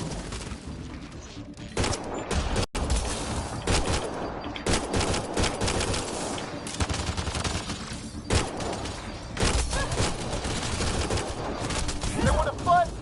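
Sustained gunfire in the video game Mass Effect: Andromeda, with rapid bursts and shots cracking nearly continuously, close and loud, and occasional heavier impacts. A voice speaks briefly over the shooting.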